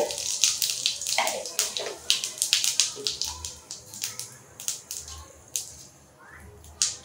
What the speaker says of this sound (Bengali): তেল গরম হয়ে এসেছে, এখন আমি ফোড়নটা দিয়ে দেব। প্রথমে দিয়ে দেব আমি জিরে